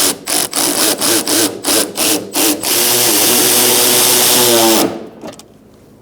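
A power tool drives 10mm bolts into a Hyundai Accent front bumper cover, first in about eight short bursts, then in one sustained whirring run before stopping, close and loud.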